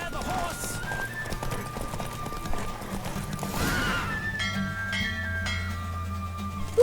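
Galloping hooves from a horse in The Witcher 3 drum along under a voice and game music, the rhythm mid-distance and partly masked.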